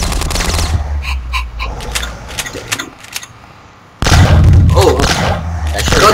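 Rapid shotgun blasts from the Box Head video game, a dense run of repeated sharp shots with a short lull before a louder burst resumes.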